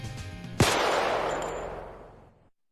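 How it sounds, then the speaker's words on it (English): A single sharp gunshot rings out in the scene of National Guard soldiers firing on students at Kent State University, a sudden loud crack over a low rumble that decays away over about two seconds. "Then, one nervous soldier changed the course of history."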